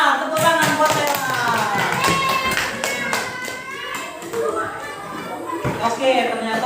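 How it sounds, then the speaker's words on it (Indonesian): Children in a classroom clap for a classmate, a brief burst of quick scattered claps mixed with lively voices and chatter throughout. "Tepuk tangan buat Sela."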